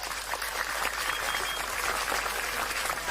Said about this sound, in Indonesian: Maka tepuk tangan untuk pemuda Pancasila.